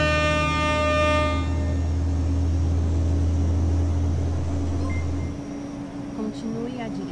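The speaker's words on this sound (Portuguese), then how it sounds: "Tô buzinado, Elvis." A loud, steady low horn blares from a Volvo FH16 tanker truck in a driving game, sustained for about five seconds before cutting off, with harmonic tones above and a voice talking over it throughout.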